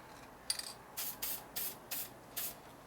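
Aerosol spray hissing onto the engine case of a 1947 Harley EL knucklehead 74ci motor: about six short, separate bursts in quick succession, close and fairly quiet.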